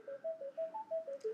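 On a radio talk show, an incoming phone call sounds as a short run of about eight quick electronic tones, evenly spaced and moderately faint.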